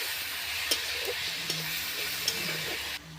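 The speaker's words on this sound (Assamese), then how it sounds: "এতিয়া অকণমান বিলাহীখিনি ভাজ খোৱালৈকে ভাজি ল'ম" Chopped tomatoes frying in a pan for jackfruit curry, a steady soft sizzle with a few light stirring clicks, fairly quiet and without voices.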